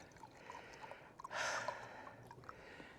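Raki poured from a bottle into a glass, a faint gurgling splash swelling briefly in the middle over quiet room tone, close and soft, with no talking.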